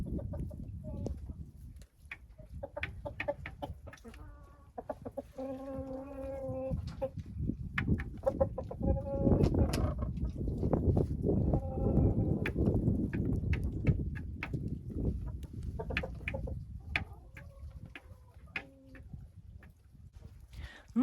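Crested hens in a henhouse during snow and rain give repeated soft clucks and a few drawn-out, rising calls, fairly close and scattered over a low background rustle.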